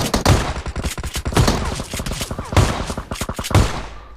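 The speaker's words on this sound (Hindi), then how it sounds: "तभी आती है पीछे फायर की आवाज़" Shotgun fire in PUBG Mobile rings out in rapid, loud, closely spaced shots that roll on continuously without a break.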